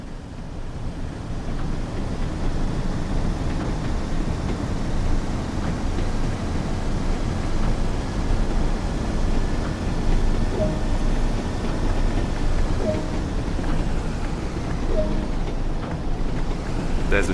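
A Class 101 diesel multiple unit accelerates along the Tees Valley Line in Train Sim World 2, giving a steady, heavy engine rumble mixed with rushing wind and track noise that holds throughout.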